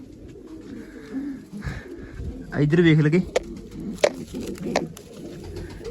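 Pigeons coo in a loft where newly hatched chicks sit, low murmuring calls rising mid-stretch alongside a few sharp knocks, with someone talking close over them.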